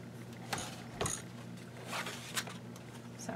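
A small Janome sewing machine stitching a belly band gives a few slow, separate mechanical clicks and clunks, quiet and close, with no voices.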